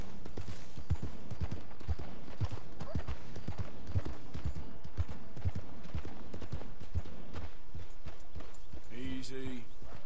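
Horse hooves clip-clop in the Western game Red Dead Redemption 2, a steady rhythm of close, fairly loud footfalls over a constant game-world background, with a voice heard near the end.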